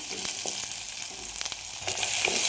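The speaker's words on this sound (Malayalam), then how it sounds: "അല്പം ചെറിയുള്ളി അപ്പം ഇത്രയും ഇട്ട് കൊടുത്ത് നന്നായി ഇളക്കി കൊടുക്കുന്നുണ്ട്" Shallots sautéing in a pan for Kerala avoli fish curry, a close, steady sizzle with several quick stirring scrapes and taps, growing slightly louder toward the end, no talking.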